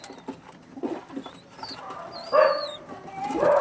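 Young original-breed pigeons coo softly, joined by scattered higher bird calls and a few sharp sounds, growing slightly louder toward the end.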